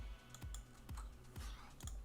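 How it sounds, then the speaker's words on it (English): A computer keyboard spacebar pressed repeatedly, about five soft clicks spaced roughly half a second apart in a steady rhythm, close and fairly quiet with no talking. "I keep pressing spacebar to play it"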